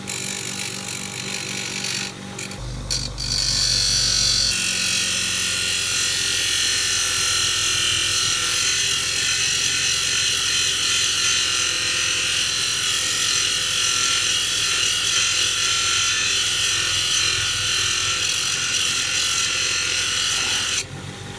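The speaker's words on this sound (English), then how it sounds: "So decided just to use the wee grinder." Small grinder working on a paint roller, a loud, steady, harsh abrasive whine that runs continuously for about twenty seconds after a brief start, close by with no talk.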